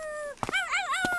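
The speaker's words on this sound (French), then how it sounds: "le chien qui aboie" Dog in a French animated series giving a short yelp, then a warbling howl-like bark, close and fairly loud.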